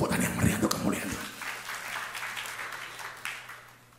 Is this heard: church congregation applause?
yes